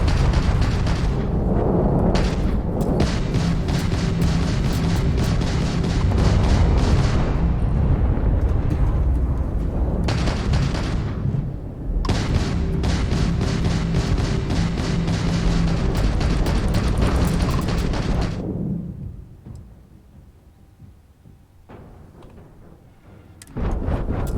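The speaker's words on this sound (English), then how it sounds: "Fire missile." Missile launches and explosions in the video game Starfield, a dense run of loud booming blasts and rumbling impacts with brief gaps, fading to near quiet before one last burst.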